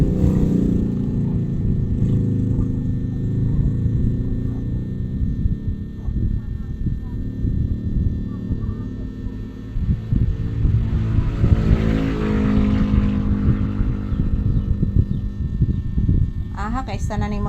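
Large, loud motorcycles rumble past nearby with deep engine drone and revving that swells and fades over a long stretch, while people talk beneath the noise.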